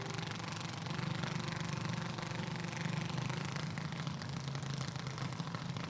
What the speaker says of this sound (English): that engine sounds a little funny to me